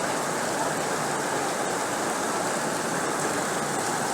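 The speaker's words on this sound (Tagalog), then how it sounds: "Lakas pa rin ang ulan." Heavy habagat monsoon rain pours down during flooding in a steady, dense, unbroken roar with no pauses.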